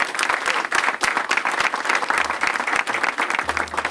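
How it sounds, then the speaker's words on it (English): A school audience at MS 890 in Brooklyn breaks into steady applause, dense clapping from many hands sustained evenly throughout, close and loud with no pauses. "Let's give them a round of applause."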